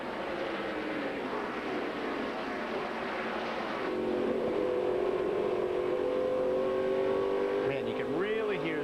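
NASCAR stock car engines roaring past during the 2005 Wallace Family Tribute 250 race, a loud, sustained drone with pitch sweeps as cars pass, under race commentary.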